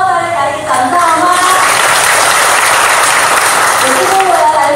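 A church workshop audience breaks into dense, steady applause that fills the whole stretch, with a few voices and faint tones heard near the start.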